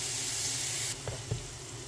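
Shrimp mince hits hot neutral oil with garlic paste in a frying pan, a bright spray-like sizzle that drops in intensity midway, followed by a couple of soft clinks of stirring close by.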